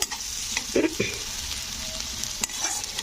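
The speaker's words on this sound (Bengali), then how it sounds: "এবারে আমি দিয়ে দেবো এতে কারি পাতা তো কারি পাতাগুলো একটু দিয়ে নাড়াচাড়া করে দেবো" Curry leaves stirred into onions already fried light brown in a pan, for a bottle gourd dish: a constant close sizzle with a few spoon clinks and scrapes over about three seconds.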